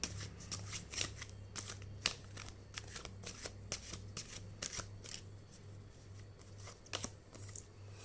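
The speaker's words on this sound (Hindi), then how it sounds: "पहले मैं ना सारे कार्ड्स ले लेती हूँ" Tarot cards shuffled by hand during a reading, a quiet run of crisp riffling bursts in irregular rhythm close up, alone over a faint steady hum.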